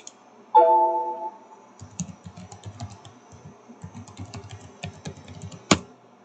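Keys clatter on a computer keyboard as a networking command is typed into the Windows command prompt, a steady run of close, light clicks with small pauses and one sharper keystroke near the end, no talk.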